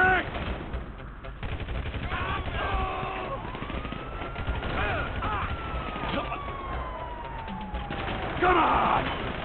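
Gunfire in the GTA V video game, with bursts of shots over a steady din of game noise, a police siren sweeping in the background and a person talking loudly in between.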